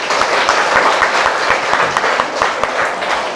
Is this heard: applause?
yes